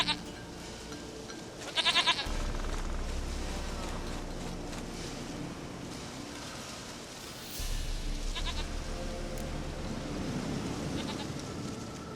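A goat bleats in the video game The Witcher 3, with a few bleats rising over a steady outdoor background; a faint voice may be present as well.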